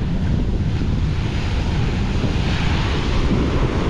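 Rough ocean surf pounds a storm-battered fishing shore, a dense, continuous roar of breaking waves mixed with strong wind buffeting the microphone, loud and unbroken throughout.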